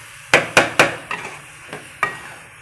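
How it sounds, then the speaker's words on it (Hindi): A spoon stirs gajrela, carrot halwa, in a pan, scraping and knocking in six sharp strokes, three quick ones then three more spaced out, over a faint background with no talking. "अब हमने साथ साथ चम्मच चलाते जाना है"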